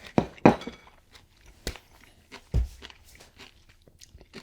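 Someone eats kimchi with rice at lunchtime, giving a few loud, close crunchy bites and soft chewing, with quieter mouth sounds in between and no talk.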